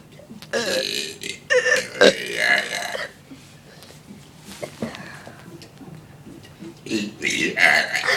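Several loud, drawn-out burps come in bursts, one after another, close to the microphone. People laugh and talk between them.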